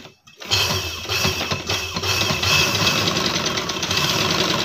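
Sewing machine stitching a baby frock starts up after a brief silence, then runs as a steady, close mechanical whir with a fast, rhythmic clatter.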